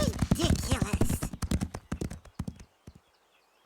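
Cartoon horses trot through a moonlit meadow with brisk hollow clip-clop hooves. A voice talks over the first half, then the hoofbeats thin out into a few faint, spaced knocks.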